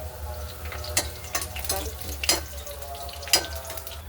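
Ginger garlic paste and two bay leaves fry in hot oil, a soft steady sizzle punctuated by several sharp spoon scrapes and clinks against the pan.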